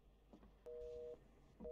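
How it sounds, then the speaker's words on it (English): Electronic phone beeps in a Roblox game, a steady two-tone tone held for about half a second, then starting again, over quiet background noise. "I gotta turn this beeping phone off"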